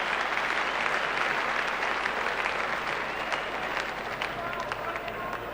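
Cricket crowd at the Melbourne ground applauding a square drive in a 1981/82 Pakistan versus West Indies one-day match, a broad distant wash of clapping under a broadcast commentator's voice.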